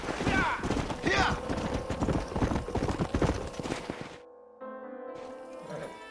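Horses galloping with rapid, rhythmic hoofbeats in the Western video game Red Dead Redemption, loud and close, with shouted voices and a whinny early on, before the scene cuts to quieter game ambience and music.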